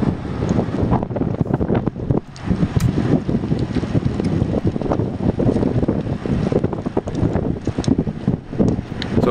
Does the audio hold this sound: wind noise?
yes